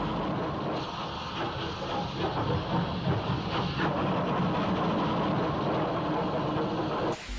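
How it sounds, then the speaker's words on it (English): West Country class steam locomotive 34002 Salisbury slips its wheels, then pulls away towards Waterloo, a steady, loud chuffing and rumbling with hiss and rail noise throughout, ending abruptly. "West Country 34002 Salisbury slips before getting on her way towards Waterloo."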